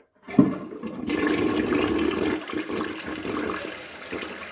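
A partly clogged toilet flushes close by, opening with a sharp clunk of the handle and then a steady rushing swirl of water that slowly weakens, with no voices.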